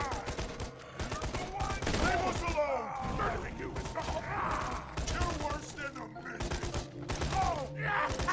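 Rapid gunfire in the Borderlands 2 video game comes in repeated sharp bursts, dense and close, with brief mechanical clanks and creaks between the volleys.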